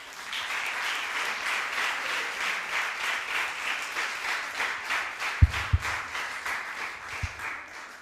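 Hall audience at a best-teacher award ceremony gives a round of applause, a soft, steady wash of clapping heard from a distance, with a few louder thumps near the microphone toward the end.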